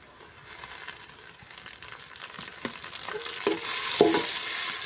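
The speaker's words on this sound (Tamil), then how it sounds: "ஒரு நிமிஷம் வதக்கிட்டால் போதும்" Two green chilies sauté in hot oil with cardamom and cloves in a pan, a steady close sizzle punctuated by a few sharp stirring scrapes and crackles that grow louder.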